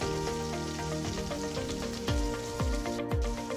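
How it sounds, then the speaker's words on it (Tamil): Small and big onions sautéing in a pan for egg pepper sukka, a steady sizzle under a musical background with a few low thumps near the end. "இதை எல்லாத்தையும் சேர்த்து நம்ம நல்லா வதக்கி விட்டுக்கலாம்"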